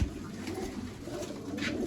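A pigeon gives a brief, faint coo, heard alone against quiet background noise.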